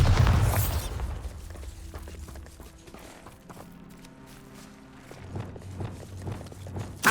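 A Bombarda spell explodes in Hogwarts Legacy as one loud, sharp blast at the start that decays into a quieter rumble. Light clattering, hoof-like steps follow near the end.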